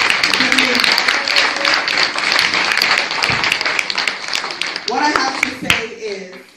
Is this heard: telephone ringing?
no